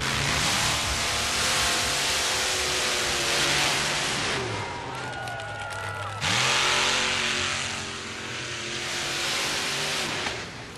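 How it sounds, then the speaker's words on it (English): A Chevy S10 Blazer drag racer with a blown, alcohol-injected 568 cubic inch Chevrolet engine roars loudly, its pitch climbing and dropping as it revs and accelerates, a dense engine blare throughout. "Glenn Siebel and the Legal Speed, a Chevy S10 Blazer with a 568 cubic inch Chevrolet engine blown and injected on alcohol."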